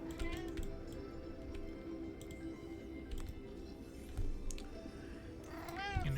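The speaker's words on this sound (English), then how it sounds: "And I should be petting this cat." Cat meowing in the Subnautica Below Zero video game, a single short, faint meow near the end against quiet ambient game sound with soft ticking.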